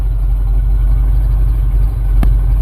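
A car engine idles steadily up close, a low, even rumble with a faint whine and no revving.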